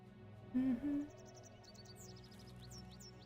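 Two low, soft hoots sound close together, like an owl, with faint chirping birds in the background of a quiet setting in the video game Eidolon.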